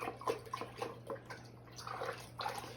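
pH down solution stirred into a container of water, likely with a paint stick, giving soft irregular sloshing and splashing swirls that pulse through a quiet room, close and moderately faint with no talking.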